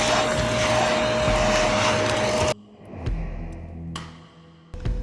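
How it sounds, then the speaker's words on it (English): A vacuum cleaner works through a badly soiled car interior, whining loudly and steadily. It then stops abruptly, leaving quieter thuds and shuffling before the motor briefly kicks back in. "going back and forth with the vacuum cleaner"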